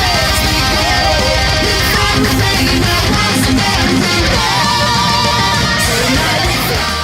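An electric guitar plays the pre-chorus of a song along with the original recording, and fast, dense melodic lines ride over loud, driving drums in a continuous wall of sound.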